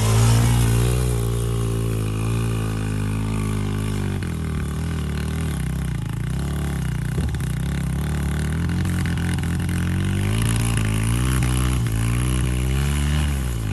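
A Kawasaki KLX140RF dirt bike on a muddy enduro trail revs hard up close, its engine pitch rising and falling through repeated throttle blips and strains, loud and continuous throughout.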